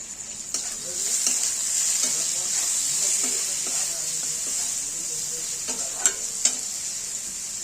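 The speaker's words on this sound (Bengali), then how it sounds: "আমাদের এখানে মশলাটা ভাজা হয়ে গেছে" Masala spices for Punjabi chole sizzle steadily in a hot pan, while a spatula stirs them with soft scrapes and a couple of sharper clinks near the end.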